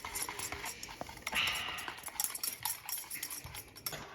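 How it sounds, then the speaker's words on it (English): A whisk clicks and taps rapidly against a bowl as melted chocolate is beaten together with coconut milk, making a busy, fairly quiet run of metallic ticks close by. "The chocolate is melting, and we're just whisking it all together until smooth"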